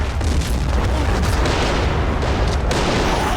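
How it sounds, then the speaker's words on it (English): Explosions in the Army Men of War game, loud overlapping booms and artillery-like blasts forming a constant rumbling battle roar, with sharper bursts near the start and around the middle. "Explosions everywhere."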